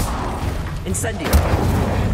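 Fiery Incendio spell cast in the Hogwarts Legacy video game, a burst of flame and booming impact amid constant battle noise, with a voice shouting spell names over it.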